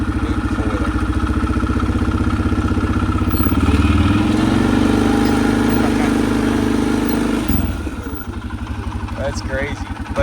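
A Mud Pro four-wheeler with a damaged clutch revs hard and close, a loud rough mechanical drone that climbs and holds for several seconds before dropping back, with someone talking over it.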